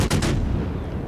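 Battleship shells strike a ship in the World of Warships naval game, with a brief, loud, booming impact burst that rumbles heavily and quickly fades.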